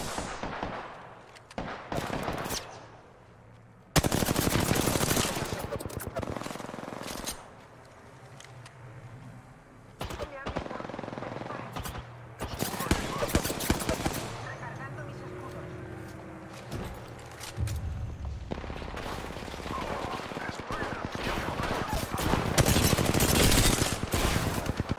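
Shotgun blasts in the video game Apex Legends, heavy booming shots and dense bursts of gunfire in long loud stretches, with a player talking between and over them.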